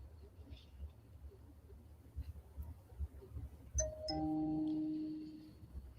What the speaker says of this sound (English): Ding dong. Ding dong. Ding dong.